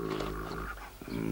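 A cartoon dog growls in a short, low, rumbling snarl that dips briefly in the middle and picks up again, close and fairly quiet, with no talking over it.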